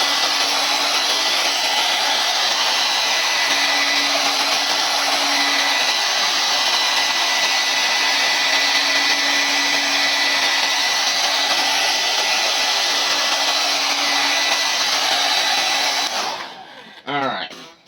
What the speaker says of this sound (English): We bring in a hair dryer